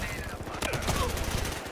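Rapid gunfire in the game Battlefield Hardline, a short dense burst of shots with a voice talking over it.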